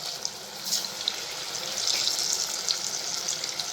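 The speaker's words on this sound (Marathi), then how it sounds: "मी आता त्या वड्या सगळ्या एक एक करून तळून घेते" Alu vadi slices deep-frying one by one in very hot oil, a steady bright hiss with fizzing crackle that swells slightly partway through, with no talk.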